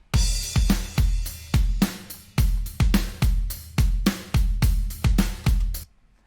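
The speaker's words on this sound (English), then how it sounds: "So this is the snare without samples" A recorded snare drum without samples plays about a dozen sharp, close hits in a steady rhythm, each with a bright crack and short ring, then stops.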